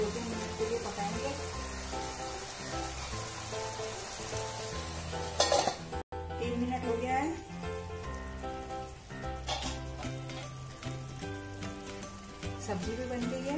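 Eggplant slices for baingan bhaja sizzle steadily in a covered pan, a constant crackling fry with a brief clatter midway and a faint background tone.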